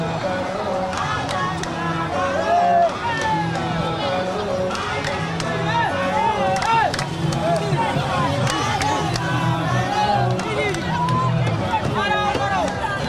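A roadside crowd in Banjul, The Gambia, murmurs in a steady babble of many voices, with nearby talking and the occasional passing vehicle underneath.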